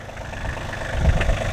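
A Kioti tractor engine idles on a cold, windy day, a steady low rumble with faint vibration holding at an even level, close by and without speech.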